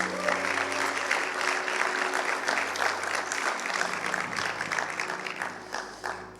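A church congregation at Casa de Dios Miami applauds the children, a sustained wash of clapping over a soft held musical tone that gradually thins out near the end.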